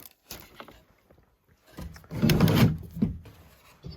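Wooden drawers in an old house being slid open and shut: soft knocks early on, then a louder scraping, rattling slide with a thud about halfway through, close and fairly quiet overall.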